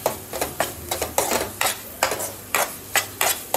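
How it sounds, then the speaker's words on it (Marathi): Ground masala paste is stirred and sautéed in a pan over high heat, with rhythmic scraping strokes roughly twice a second over a faint sizzle, close and clear, with no talking. "वाटप पण चांगला मोठ्या गॅसवर परतून घेतलाय."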